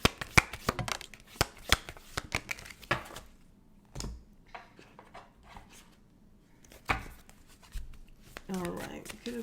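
Tarot cards are shuffled by hand for a weekly reading, giving bursts of quick riffling clicks and slaps with pauses in between, close and fairly quiet.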